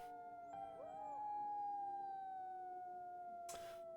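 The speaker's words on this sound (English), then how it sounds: "you do start hearing in the distance the sounds of werewolves" Wolves howling in the distance as a sound effect during a fantasy tabletop role-playing game: long, sustained, gently falling tonal howls with overlapping voices, faint and distant, ending with a brief burst of noise.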